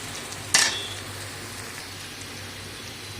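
Bitter gourd and potato frying in a pan, a steady soft sizzle running throughout with a brief sharp scrape near the start, close and moderately quiet, no talking.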